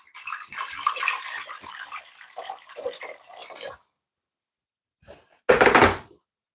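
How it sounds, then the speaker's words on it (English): Hot water from a pot splashes onto chicken wings in a kitchen, a short, loud rushing pour near the end after someone talks and falls silent. "I'm gonna put some hot water in that because these wings, I want these for later to eat."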